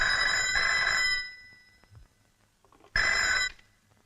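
A telephone rings in two loud bursts, about a second of ringing, a pause of nearly two seconds, then a shorter second burst, with faint room noise between the rings.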